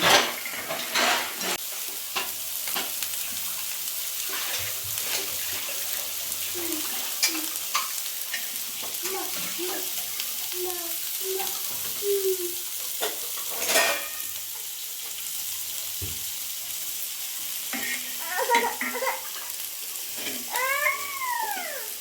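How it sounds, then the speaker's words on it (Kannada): Onion frying and being stirred in a pan for cauliflower gobi manchurian, with soft sizzling and repeated stirring scrapes; a cat meows several times over it, most clearly toward the end. "ಈರುಳ್ಳಿನ ಸ್ವಲ್ಪ ಫ್ರೈ ಮಾಡ್ಕೊಂಡ್ಬಿಡೋಣ ಚೆನ್ನಾಗಿ"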